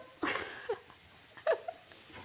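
A dog gives a few short, fairly faint whimpers and yips, with quiet pauses between them.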